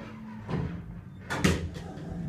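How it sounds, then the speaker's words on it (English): ThyssenKrupp elevator doors at a hotel slide shut with a couple of soft thumps and a brief rattling clunk, heard close up in a quiet cab. "I'll watch the door close"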